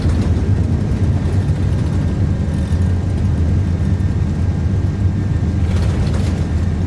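A steady, loud roar from the engines of an iniBuilds A330 airliner in the MSFS2024 flight simulator, held at takeoff power and running continuously without a break.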